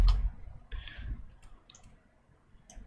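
Computer keyboard typing, a loose scatter of soft clicks and taps at close range, fairly quiet, with no talking over it.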